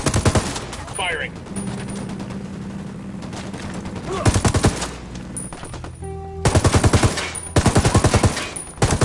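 Gunfire in Ghost Recon Wildlands rings out in loud rapid automatic bursts, close and punchy, separated by short gaps of ambient game noise.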